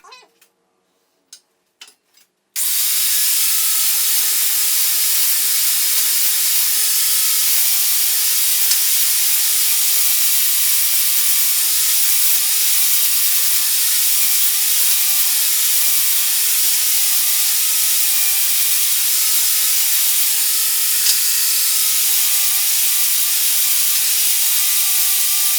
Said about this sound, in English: I'm just gonna hit them all with a flat wheel and get them fit up.